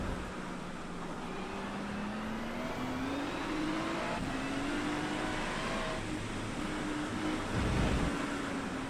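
A Ferrari race car's engine in a rain race at Misano in a racing video game drones and climbs in pitch through the gears, with brief drops at each shift over a steady wash of tyre and spray noise.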